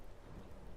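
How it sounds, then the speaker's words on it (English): A cloud and rain effect over a manor in a Call of Cthulhu game gives a brief, steady wash of rain with a low thunder rumble beneath it. "the manor has now a cool cloud and rain effect on it"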